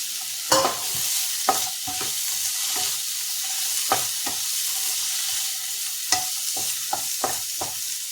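Mango and tomato go into a pan of sautéing bitter gourd and onion, oil sizzling steadily while a utensil scrapes and taps the pan in irregular stirring strokes, close and moderately loud.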